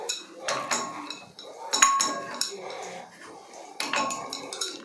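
Metallic clinks, scrapes and light knocks from unscrewing a Jaquar shower wall mixer tap fitting in a bathroom, arriving in irregular close bursts with brief gaps between them.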